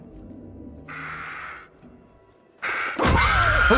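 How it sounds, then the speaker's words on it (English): A crow caws in the horror video game Little Hope amid creeping fog: two harsh, drawn-out caws with a pause between, then a sudden loud rushing burst takes over, with no talking. "There's a crow."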